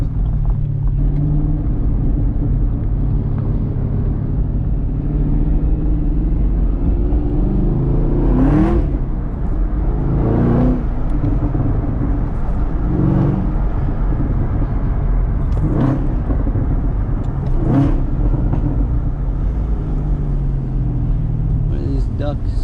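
A 2019 Chevrolet Camaro ZL1 1LE supercharged V8 drones and rumbles from inside the cabin while driving on a windy day, with a few brief throttle swells over the steady engine note and a voice talking over it.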